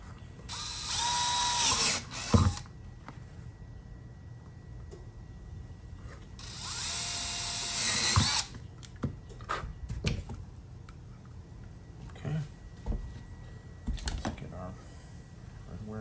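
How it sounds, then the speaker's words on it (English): Two bursts of a power drill whirring, each lasting a couple of seconds, followed by clicks and handling noises. "Let's drill it."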